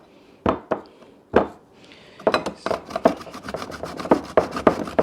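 Spoon or scraper rasping out the inside of a large zucchini, a few separate scrapes at first, then a quicker run of close, crisp strokes.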